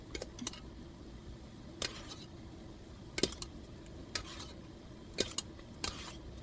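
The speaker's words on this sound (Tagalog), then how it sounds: "hanguin na natin ang pork na ating pinakuluan" Boiled pork being scooped out of a pot with a utensil, scattered sharp metallic clinks and scrapes against the pot over a soft background hiss, close and sparse with no talk.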